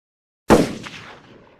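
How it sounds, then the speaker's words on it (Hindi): A single sharp pistol shot cracks out of silence, loud and close, then decays through a ringing tail over about a second. "रवि गोली चला देता है।"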